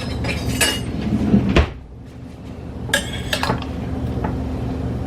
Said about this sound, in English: So now I'm gonna stir it up.